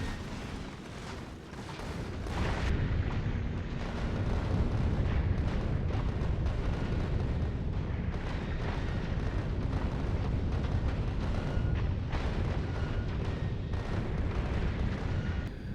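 Rockets and missiles burst in rapid succession in Factorio Space Age, building after a couple of seconds into a dense, loud, continuous barrage of booms and rumbling blasts.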